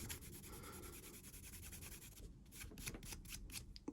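Renaissance microcrystalline wax rubbed by cloth onto a piece of raw wood, a steady soft scrubbing and rasping that runs continuously and close, becoming more irregular and patchy toward the end.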